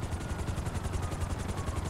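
A helicopter in GTA V whirs with a steady, rapid rotor chop that pulses evenly throughout, loud and close, with dense low rumble and no talk.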